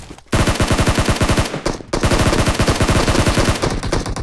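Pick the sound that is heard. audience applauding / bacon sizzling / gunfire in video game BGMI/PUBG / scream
gunfire in video game BGMI/PUBG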